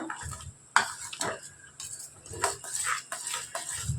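A spoon scrapes and clinks against a metal pot in irregular bursts, stirring thick bottle gourd buttermilk curry, with soft bubbling between the strokes.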